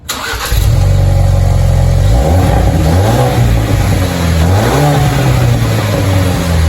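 A Ford Bronco Heritage Edition's 2.3-liter turbocharged four-cylinder starts, then revs loudly several times, the pitch rising and falling between steady idling stretches, close and alone.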